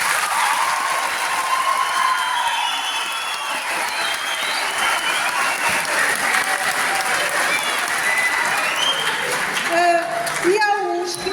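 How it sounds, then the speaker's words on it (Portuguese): Audience applause fills the room steadily for about ten seconds at a presentation event, dense clapping with a few voices mixed in before it tapers near the end. "dei-lhe uma salva de palmas."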